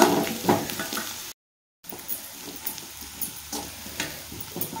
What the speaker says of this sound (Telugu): ఇందులో ఉప్పు కారం ధనియాల పొడి ఇవన్నీ వేసుకొని అయితే మంచిగా ఫ్రై చేసేసుకోవాలండి